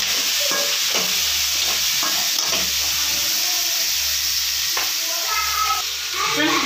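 Onions sauté in a hot pan with a steady, loud sizzle and hiss, broken by repeated scraping and stirring clicks, while a voice talks faintly underneath.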